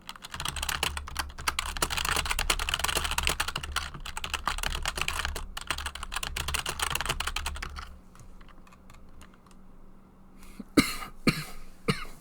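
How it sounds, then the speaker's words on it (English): Rapid keyboard typing fills most of the clip, then fades; a few sharp coughs break out near the end, close and distinct. "Oh, I'm coughing."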